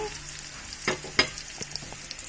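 Prawns and onion frying in oil make a steady soft sizzle, broken by a few quiet clicks and scrapes of stirring, as Bengali chingri vuna cooks.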